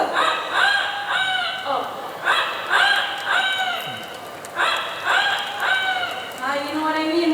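A bird mimicking a rooster gives repeated crowing calls in a rooster-like pattern, about five bursts with short pauses, close and fairly loud, with a brief human murmur.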